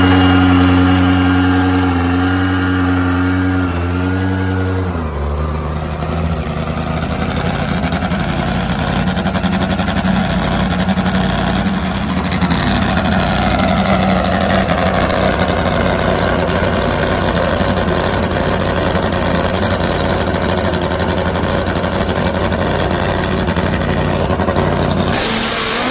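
A pro mod Kawasaki drag motorcycle engine fires up and settles into a loud, rough idle. It then revs hard repeatedly in a sustained roar, close and dominating.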